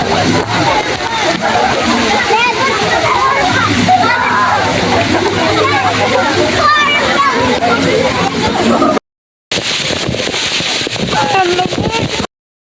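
Steady rushing and splashing cold spring water flowing over rock fills the scene, close and loud, with people talking faintly underneath and a brief cut near the end.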